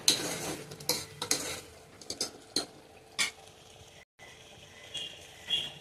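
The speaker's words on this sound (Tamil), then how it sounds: "இப்போ இதை நல்லா மிக்ஸ் பண்ணிட்டு கொஞ்சம் இந்த கிரேவியை கிளறி விடலாம்." A spoon stirring thick mixed-vegetable gravy in a pan, with soft intermittent scrapes and clinks against the metal over a low background sizzle, close and moderately quiet, with no talking.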